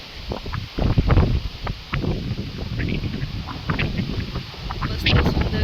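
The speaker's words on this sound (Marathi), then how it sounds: "वारं जास्त असणार आहे आणि माझा आवाज कमी" Strong wind buffets the microphone outdoors in a steady, close rumble with gusty swells, while a voice talks over it.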